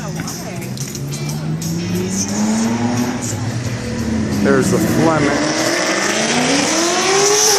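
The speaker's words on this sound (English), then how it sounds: "Somebody's just revving their engine." Black car revving its engine loudly and sweeping past on a busy street at the Greene shopping area in Kettering/Beavercreek, Ohio, on a Saturday night, with a rising growl that builds and fades, a voice speaking briefly over it.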